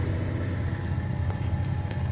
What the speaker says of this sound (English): Starts up and just purrs.